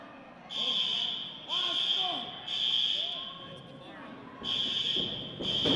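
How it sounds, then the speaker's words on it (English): A steady high fire alarm tone sounds in repeated long bursts, loud and continuous, with excited voices and crowd noise underneath at a wrestling show. "What is that noise? Fire alarm."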